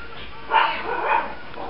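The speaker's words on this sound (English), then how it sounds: "Stupid dogs." Two short dog barks ring out a moment apart, fairly faint and somewhat distant.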